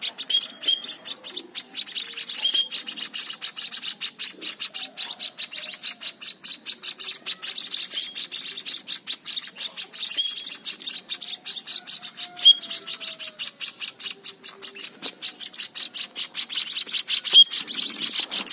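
Pet emprit (munia) finch chirping outside its cage, a steady stream of high, rapid tweets and calls with no voices, a couple of louder chirps standing out near the middle and end.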